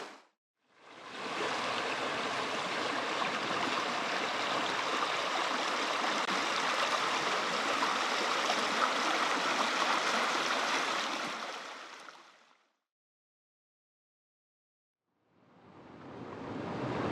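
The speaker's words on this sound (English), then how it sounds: "So peaceful listening to the flowing water here along the river." Continuous rushing river water along a Florida Trail section in the Green Swamp Wilderness Preserve, a broad steady roar lasting about eleven seconds, then cutting out and returning.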